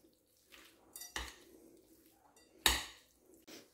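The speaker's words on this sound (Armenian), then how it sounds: "Եվ այնուհետև խառնենք մեր աղցանը։" A salad of chicken breast, mushrooms and corn is stirred with mayonnaise and sour cream in a bowl. A few sharp clinks and scrapes of a utensil against the dish stand out from near silence.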